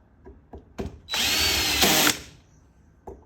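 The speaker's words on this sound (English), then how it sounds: "I'll show you the magic of having a drill that's set at a really low clutch" Cordless drill set to a low clutch tightening carburetor screws on a 1995 Honda VTR 1100 C: a few light clicks, then a loud whirring burst of about a second, then a quieter click.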